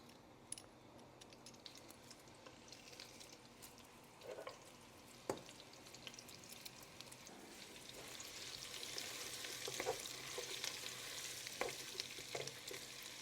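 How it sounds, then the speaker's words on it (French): Minced onions and garlic cloves fry in a pan with a soft sizzle that grows busier and louder toward the end, broken by occasional stirring clinks. "Je vais également ajouter les gousses d'ail."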